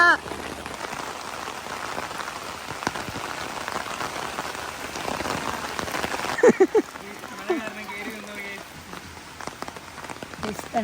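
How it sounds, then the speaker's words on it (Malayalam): Steady rain falls across a rural travel stop in Kerala, a continuous patter of drops on surfaces that holds throughout, with brief louder splashes midway and faint voices in the background. "മഴയാണ് ഗൈസ്"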